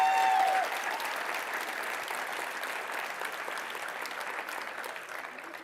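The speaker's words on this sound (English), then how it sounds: "why don't we give them a warm round of applause" A live summit audience gives a warm round of applause for Byler's Barbecue, dense sustained clapping that starts strong and holds steady, slightly tapering, with no talk over it.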